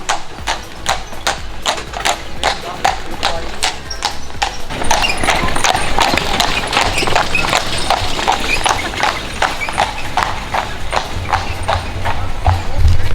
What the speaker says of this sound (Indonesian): Di belakang ada kuda.